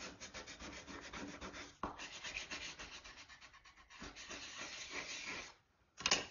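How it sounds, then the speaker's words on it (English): A plastic kitchen scraper scrubs firmly across transfer paper, giving continuous close rubbing strokes with a brief sharp scrape partway through and a short pause near the end. "Take your credit card, your whatever you have, the little, you know, the little Pampered Chef little scrapers work awesome for this. And you're just gonna scrub it down."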